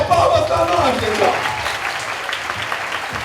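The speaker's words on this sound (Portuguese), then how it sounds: "Maravilha, palmas para nós" Audience applause at an education congress in Espírito Santo, a burst of clapping from a seated crowd that starts loud with a voice talking over the first second, then thins and fades over the remaining seconds.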